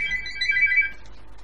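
A telephone rings in a house with a short burst of electronic warbling ring, clear and fairly close, fading out within about a second with no talking.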